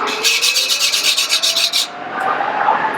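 A screwdriver scraped across an outdoor porcelain paver in quick, rhythmic rasping strokes, loud and close for under two seconds before fading into softer background noise.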